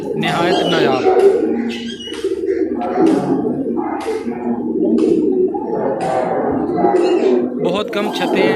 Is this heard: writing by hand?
no